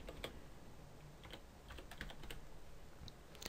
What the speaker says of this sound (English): So I'm just going to go and type freezing.